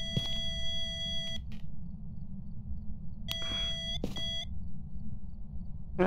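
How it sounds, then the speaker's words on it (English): Ghost-hunting equipment in the Phasmophobia video game gives off high, steady electronic beeps in a few separate bursts over a low constant background hum. "It's beeping at something."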